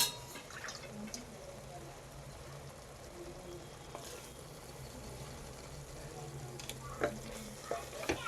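Sliced mushrooms fry with masala, fresh mint and coriander leaves in a pan, giving a faint, steady sizzle with occasional soft stirring clicks and drips.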